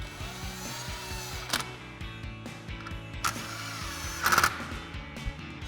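A 10mm socket ratchet tightens headlight mounting bolts on a 2021-2023 Ford Bronco, giving close, rapid clicking runs broken by brief sharp metallic knocks and pauses.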